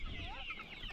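Chickens on a poultry farm cluck and chatter steadily in a dense, close flock, with a continuous murmur of bird calls and no talking.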